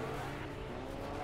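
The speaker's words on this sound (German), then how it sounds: "Jetzt fährt jeder mit dem Auto hier rum." Steady engine drone of cars driving in Fortnite, a continuous mid-level rumble with no pauses and no voices.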